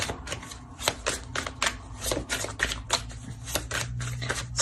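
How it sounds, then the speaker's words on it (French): Rapid, close shuffling and riffling of a tarot deck, a dense run of crisp papery flicks and snaps repeating steadily without pause, with no talking over it. "Je vais rajouter une carte."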